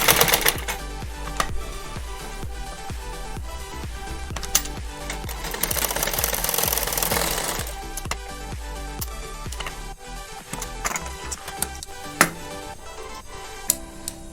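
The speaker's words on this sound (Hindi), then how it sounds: "अब यहाँ रुक जाना है और यहाँ थोड़ा 2-3 बार सिलाई करके लॉक कर दो।" A sewing machine stitches back and forth two or three times to lock the seam on a Hanuman dhoti and patka, a steady loud mechanical run with rapid needle ticks and brief pauses, no talk.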